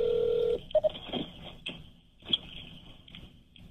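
Telephone keypad tones dial a number: a long steady tone, then two quick beeps and further fainter tones, with scuffling handling noise in between.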